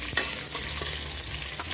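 Chopped pepper frying in a hot pan, a steady sizzle with scraping stirs from a utensil, close and fairly loud with no voices.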